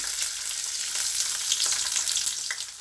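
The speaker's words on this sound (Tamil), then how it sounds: "இப்போ அது கூட இது இஞ்சி பூண்டையும் சேர்த்துருவோம்." Cumin and fennel seeds with ginger and garlic fry in hot oil, giving a steady close sizzle with faint crackles and no voices.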